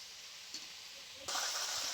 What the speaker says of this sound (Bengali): সবকিছু খুব ভালো করে বেশ কিছুক্ষণ কষিয়ে নিয়েছি